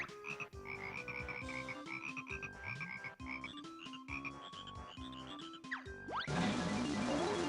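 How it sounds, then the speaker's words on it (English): Golden frogs croak in the Banjo-Kazooie video game, repeated bouncy croaks over steady game music, ending in a bright noisy burst of effects; no talking. "I gotta fight the golden frogs."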